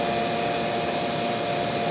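Steady, loud hot-air blowing from a Seamtek hot-air welder sealing a tape seam, a constant close whoosh with a faint whine and no variation or speech.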